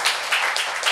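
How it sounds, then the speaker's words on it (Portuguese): A crowd claps in applause for a speaker at an opening lecture, a dense, loud, steady patter of many hands with no voices over it. "Eu peço uma salva de palmas para a Ana Paula Bispo"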